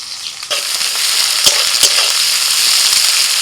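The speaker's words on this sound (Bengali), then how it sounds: "তেলটা গরম হয়ে গেছে, দিয়ে দিচ্ছি পেঁয়াজ কুচি" Chopped onions sizzle steadily in hot oil in a home Bengali kitchen, right after soybean chunks come out of the pan, with a few sharp spatula clicks and scrapes from stirring over the continuous crackle.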